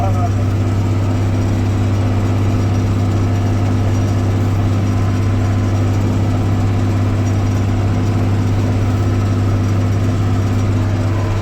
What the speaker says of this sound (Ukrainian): Моторчик звучить взагалі по-другому.